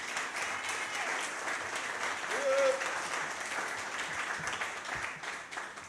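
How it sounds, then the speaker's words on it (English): Sustained applause from a large crowd of supporters at a political address, steady and loud throughout, with a brief voice rising out of it midway. "And I think Betty Jean and Tim Hogue deserve a round of applause for doing just that."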